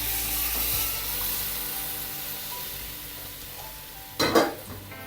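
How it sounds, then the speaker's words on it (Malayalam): Hot water poured into a sizzling pan of ginger curry, a steady frying hiss with a sudden loud splash and burst of sputtering near the end, no voices. "ഈ ചൂടുവെള്ളം ഇതിനകത്ത് കുറച്ച് ഒഴിച്ചു കൊടുക്കാം."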